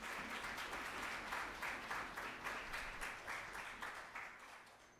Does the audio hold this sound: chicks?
no